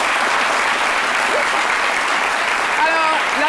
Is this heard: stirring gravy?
no